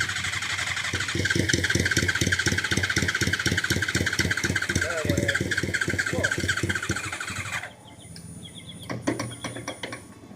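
A repaired motorbike engine, a Katana, chugs in a steady rapid pulse for several seconds, then cuts out abruptly before sputtering briefly as it tries to catch again.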